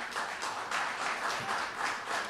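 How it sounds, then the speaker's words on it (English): A live audience at a Stage 33 Live comedy set breaks into steady, sustained applause, a dense wash of clapping that holds evenly throughout with no voices over it. "a rousing round of applause"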